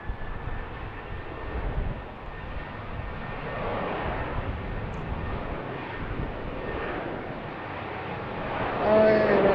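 A jet airliner takes off from runway 15 right at BWI airport, a steady broadband engine roar building slightly toward the end, heard from a distance with faint talk over it.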